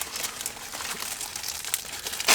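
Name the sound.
unwrapping a cheesesteak from its paper wrapper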